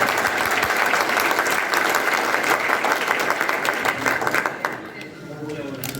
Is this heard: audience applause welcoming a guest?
yes